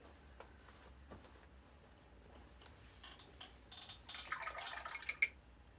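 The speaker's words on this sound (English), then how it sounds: "I'm gonna wash the brush again." Paintbrush rinsed in a water cup during acrylic painting, quiet scattered taps and drips, then a short burst of swishing water near the end.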